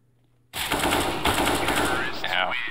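AK rifle in a video game firing a sudden, loud, continuous automatic burst that runs for about two seconds after a brief quiet start.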